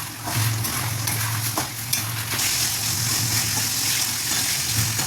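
Masala of coriander powder, Kashmiri chilli powder and cumin powder being stir-fried in oil for a mutton curry gives a steady, close sizzle with continuous stirring scrapes throughout.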